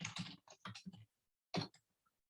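Someone types on a computer keyboard in quick bursts of clicking keystrokes, a short pause, then another brief flurry of keys, fairly close and otherwise quiet.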